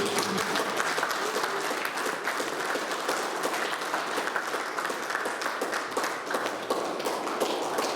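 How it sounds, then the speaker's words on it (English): A crowd in a surf club's clubrooms applauds at a prizegiving, dense sustained clapping filling the room without a break. "everybody applaud this man because he's done fantastic"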